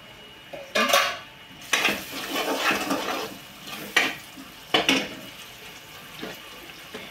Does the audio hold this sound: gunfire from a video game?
no